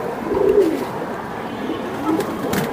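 Young pigeon squabs, about seven days old, coo softly in a couple of low murmuring bursts, close by against a steady background hum.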